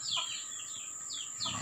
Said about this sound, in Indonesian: ini saya lagi kasih ayam makan dulu